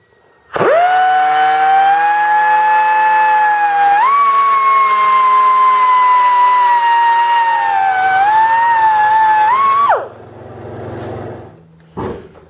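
A power tool whines loudly and steadily for about nine seconds while cutting off the end of a spare tap square just past the taper, pitch dipping briefly under load, then winds down with a short clatter.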